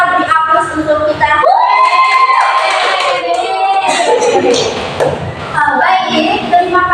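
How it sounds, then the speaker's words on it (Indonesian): Children and a teacher in a classroom during a micro-teaching lesson burst into loud, sustained clapping with excited shouts, the dense applause filling the room for several seconds before voices resume. "Mari kita beri aplaus untuk kita."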